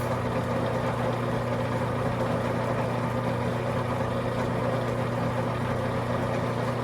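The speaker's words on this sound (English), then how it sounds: "I'm running the main spindle at 59 RPMs." A metal lathe's main spindle turns at 59 RPM in a workshop making scale studs for a live steam locomotive, producing a constant low mechanical hum with a steady tonal drone and no talk.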